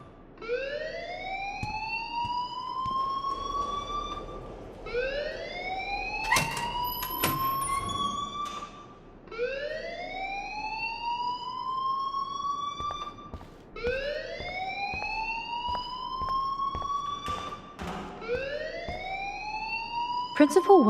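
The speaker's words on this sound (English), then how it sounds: "please turn off that alarm since that's your job" Alarm ringing in the video game Life is Strange: a repeating rising electronic whoop, each sweep about four seconds long, loud and steady, with brief clicks and game sounds between cycles.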